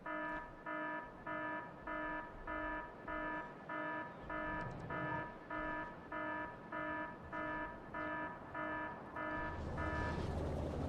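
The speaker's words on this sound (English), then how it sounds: "Why isn't the alarm switching off?" The alarm in the factory-building game Factorio repeats as a steady electronic beeping tone, roughly two pulses per second, looping evenly at moderate loudness over faint background game sounds.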